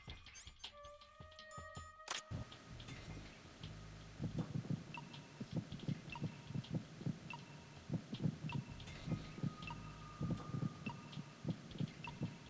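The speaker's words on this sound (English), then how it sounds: "I'm picking up multiple people's heartbeats" Several people's heartbeats in a video game, a faint low thumping that settles into an even, repeating pulse after a few opening clicks and beeps, playing alone without talk.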